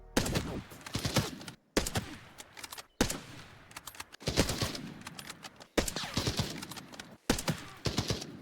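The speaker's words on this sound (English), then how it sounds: "I don't think I ever dumped a full mag of Mosin rounds into anyone before." Mosin rifle fire in the shooter game Arena Breakout Infinite: a loud burst-like string of sharp shots in several clusters, each separated by brief silences, with ringing tails and no voices.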